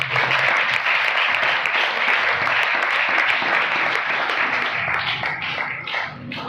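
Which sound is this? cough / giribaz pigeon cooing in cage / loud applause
loud applause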